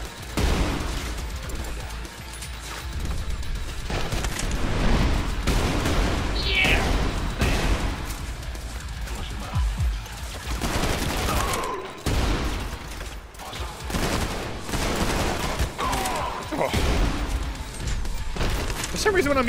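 Pistol shots and other combat noise crack repeatedly in the first-person shooter Trepang2, scattered bursts and booms mixed with game effects under near-constant talking.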